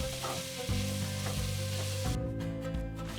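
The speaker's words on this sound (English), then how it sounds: "Heat a few tablespoons of oil in a pan and sauté everything until the sausage slices begin" Plant-based sausage slices sauté in hot oil in a pan, giving a steady close sizzle with occasional stirring scrapes and clinks, over a low background hum, no voices.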